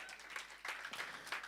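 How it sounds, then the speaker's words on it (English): Applause from an audience celebrating a new PhD graduate, a steady patter of many hands clapping at moderate distance, fairly quiet, with no talk over it. "Let's clap already."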